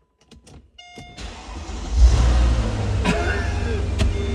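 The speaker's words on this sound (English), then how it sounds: "It started! Not with keyless go, but it started." An aging car with a battery warning light cranks and its engine catches after ignition, a few clicks and chimes first, then a rising starter whir into a steady close idle with brief sharp knocks.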